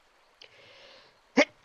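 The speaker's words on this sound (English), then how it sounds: "did not mean to sneeze in your ears" A single short, sharp human sneeze sounds close by near the end, after a stretch of quiet low murmuring.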